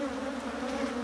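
Steady buzzing of a bee swarm inside a hive box, a dense continuous drone heard close and alone with no talking.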